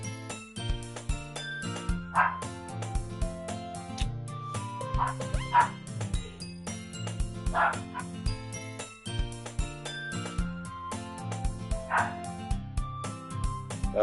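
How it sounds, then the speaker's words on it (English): A dog barks and yips repeatedly in the background, its short, distant calls recurring under a steady, tonal musical backdrop with faint jingling. "Tell me, do you hear the dog barking?"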